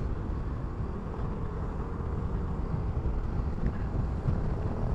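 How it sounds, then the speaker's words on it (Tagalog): Strong, steady wind roars across the microphone with a dense rumbling rush and no pauses, riding a Yamaha Mio 125 scooter at night on a highway. "Lakas ng hangin."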